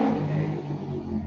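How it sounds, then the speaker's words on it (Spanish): A motorcycle on a street rumbles past with a steady engine drone, fairly loud and close, heard alone. "Un loquito en moto."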